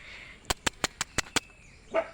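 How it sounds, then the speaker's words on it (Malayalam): A dog barks six times in a quick, evenly spaced series, sharp and close, followed by a softer short sound. "അപ്പോൾ അവരെ വീട്ടിലെ നായ് കുരക്കുന്നുണ്ട്"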